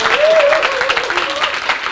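A TEDx audience at Kyung Hee breaks into a short burst of hall applause while a speaker's voice carries over the top of it, lasting just under two seconds.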